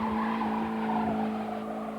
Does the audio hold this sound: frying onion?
no